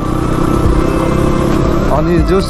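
Crossfire motorcycle engine droning steadily on a group ride to Saljhandi waterfall, a continuous near rumble with engine note shifts, under voices talking.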